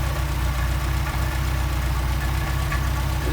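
Engine fitted with a Solex carburetor idles steadily and loudly after an idle screw adjustment, a close, even rhythmic chug with no voices.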